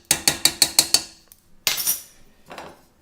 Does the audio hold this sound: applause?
no